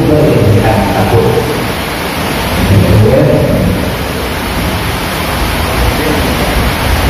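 Heavy rain pours steadily with deep rumbling thunder rolling through, loud and continuous, a dense wash of sound with the storm close by.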